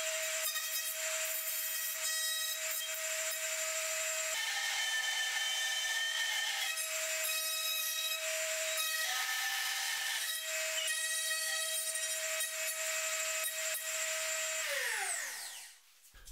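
A router on an improvised pin router setup cutting Baltic birch plywood against a template, a loud steady high whine with grinding cutting noise that changes pitch slightly as the workpiece is fed, then winds down as the motor spins to a stop.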